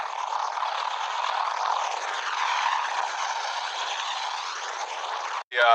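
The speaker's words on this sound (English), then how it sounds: "This is a CH-53E Super Stallion helicopter, and it's a Marine Corps helicopter that's designed for moving passengers and cargo in combat." A Marine Corps CH-53E Super Stallion heavy-lift helicopter drones steadily and loudly with a broad, unbroken rotor and engine roar throughout, cutting off abruptly near the end.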